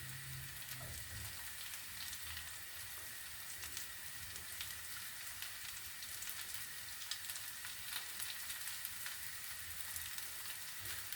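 Meat and leek sausages fry in a small pan with a steady, soft crackling sizzle that sounds almost like light rain, continuous and fairly quiet throughout, with a faint low knock near the start.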